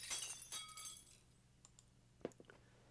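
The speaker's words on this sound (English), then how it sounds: "The sound of glass breaking." Glass shatters in the visual novel Fate/stay night, a bright burst of breaking and tinkling shards that fades into scattered small clinks and a sharp tap near the end, all quiet and without voices.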